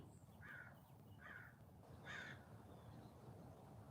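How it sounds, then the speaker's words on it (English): A crow caws outside a window, three separate calls spaced about a second apart, moderately distant over a steady background hiss. "There's a bird outside my window."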